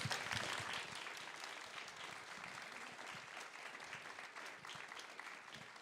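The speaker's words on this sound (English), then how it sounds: "So let's give, please, a big applause to these amazing professionals" Audience applause for a panel of film and TV crew professionals at a networking event, sustained dense clapping from a large room, steady and loud throughout with no talk over it.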